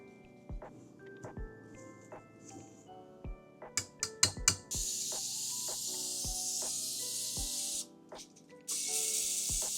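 A can of cooking spray clicking a few times before letting out a loud, sustained hiss that cuts off briefly and restarts, sputtering as it runs empty, heard close with no talking.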